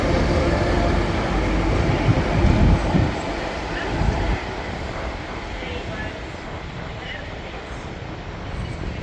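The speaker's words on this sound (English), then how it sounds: "here's a train we've actually not seen from platform level leave or arrive" A train arriving at Preston station rumbles past at close range on the platform, a steady heavy roar that swells briefly then settles into a continuous rolling drone.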